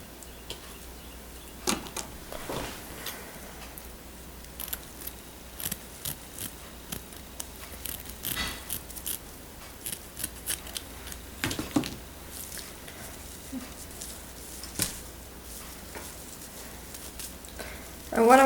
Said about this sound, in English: I'm just going to be cutting the rest of it on.